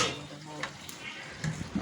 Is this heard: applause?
no